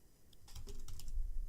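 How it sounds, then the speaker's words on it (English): Quick keystrokes on a computer keyboard entering a terminal command, a close run of light clicks that picks up pace and grows slightly louder. "We are going to type in"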